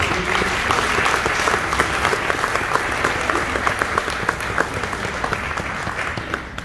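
Steady, dense applause from a conference audience at an event on sexual harassment addressed by Denise Tshisekedi, sustained at even loudness throughout with no talking over it.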